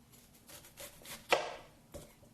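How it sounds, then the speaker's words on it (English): A knife chopping thin onion slices into small pieces on a board, several quick soft taps in a row and one sharper cut, fairly faint and close. "Thin slices of onion, and we're just going to chop those up into little pieces."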